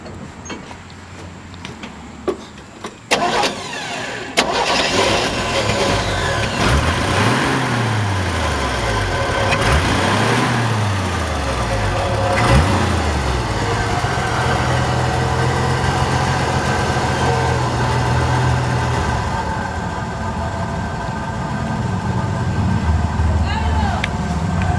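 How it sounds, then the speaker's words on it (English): A 1968 Chevrolet K20 Suburban barn-find engine, missing its gas pedal, cranks over and catches, then settles into a steady, loud rumbling idle that runs for about twenty seconds. "I'm gonna try to turn this engine over and show you how it sounds."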